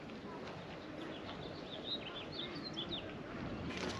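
Small wrens nesting in rock alcoves at Garden of the Gods, Colorado give faint, scattered high chirps over a steady outdoor wind hiss.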